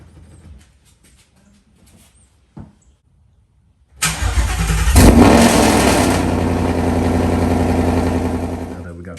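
A Ford S550 Mustang GT is quiet at first, then its engine fires with a sudden loud burst and settles into a strong, steady, close rumble, with a voice heard over it.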